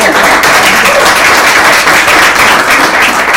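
Dense, loud applause from an audience at a community investment panel event, steady and continuous throughout with no break.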